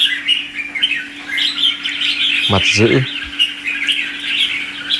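A large bright-red bulbul with a horse-nape crest, kept as a songbird, gives a short burst of chirps midway, rising over constant high-pitched ambient bird and insect noise.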